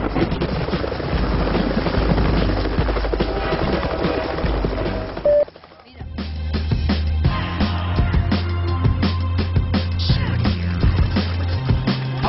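Helicopter flying while chasing a train, a loud continuous rotor and engine drone with dense rhythmic chopping, briefly dropping out in the middle before resuming with a deep low throb.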